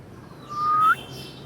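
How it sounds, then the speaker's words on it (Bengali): A Lahori pigeon gives a single brief, clear call that rises slightly before cutting off, close by against quiet background noise. "এই লাহোরি ডোরটা অনেক ডাকে অনেক সুন্দর ডাকের কবুতর"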